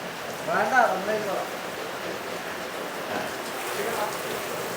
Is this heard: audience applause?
no